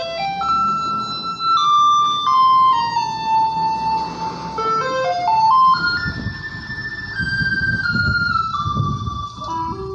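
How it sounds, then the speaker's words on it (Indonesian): A garbage truck rolls past in the evening, playing a looping electronic jingle melody of steady tones that carries clearly over low rumble and street noise, with no talking. "Mobil sampah."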